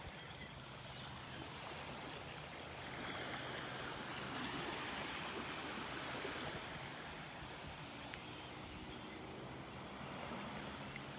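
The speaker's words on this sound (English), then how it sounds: "Listen to those sounds, the birds, the waves." Steady wash of ocean surf on a beach in North Naples, Florida, soft and continuous with gentle swells, heard alone without voices.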